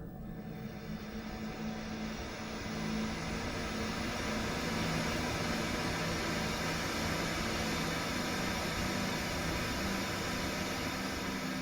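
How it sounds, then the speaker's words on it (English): Steady broadband pink noise from a generator played through a loudspeaker set at the altar stone position inside Stonehenge, continuous and even, filling the space with a dense hiss that swells slightly after the opening seconds. "We set up the loudspeaker and the pink noise generator at the position of the altar stone"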